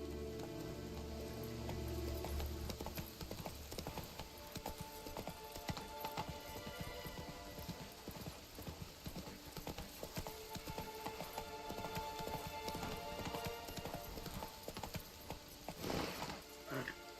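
Horse hooves clip-clop steadily during a ride in a video game, a continuous even rhythm with game ambience underneath and a brief louder burst near the end.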